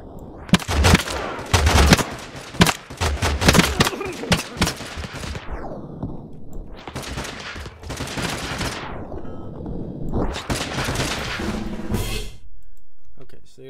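Bursts of automatic BAR rifle fire crackle in TABS, several rapid volleys separated by short gaps, with a voice talking over parts of the shooting.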